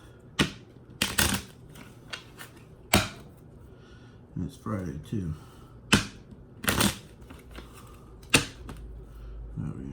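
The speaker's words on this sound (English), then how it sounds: "Alright, so let's shuffle this up." A deck of playing cards is shuffled at a blackjack table, with several brisk riffling bursts and sharp snaps spread through the stretch, while someone talks briefly in between.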